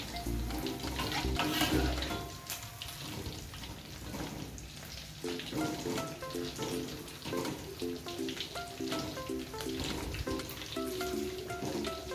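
Fish sizzling and crackling in hot oil, a steady bubbling hiss, with soft music playing underneath.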